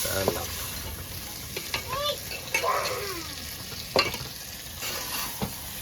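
Prawns sizzling in a pan with scraping stirring strokes and knocks of a utensil, close up, while a voice speaks briefly in the background.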